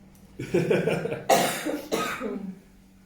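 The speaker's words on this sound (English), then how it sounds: "COVID cough" Several harsh coughs burst out close by in quick succession, a rough wet hacking fit lasting a couple of seconds.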